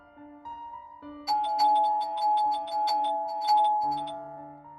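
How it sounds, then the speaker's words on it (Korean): An electronic doorbell chime rings over and over in rapid succession, loud and close, after a quieter tone. "초인종 소리가 미친 듯이 울리기 시작했다."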